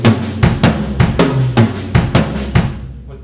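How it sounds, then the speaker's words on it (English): Linear drum fill played as a left-handed 5/3 pattern, about a dozen crisp close hits in an even flowing rhythm over three seconds, ending with a brief decay. "If you want to mix in the left-handed pattern,"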